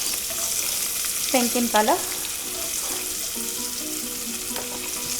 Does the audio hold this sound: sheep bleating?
no